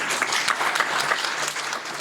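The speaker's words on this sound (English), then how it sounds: "One more round of applause." A round of enthusiastic audience applause at a Southern African family and friends reunion event, steady and full for the whole stretch.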